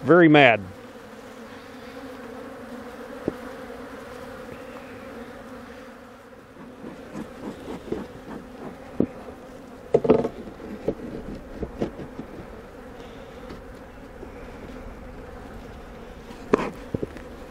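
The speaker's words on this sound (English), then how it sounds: "these bees are tearing my head up" Angry honey bees buzz loudly and continuously around a hive during super installation, a droning hum with a few close passes and some handling clatter.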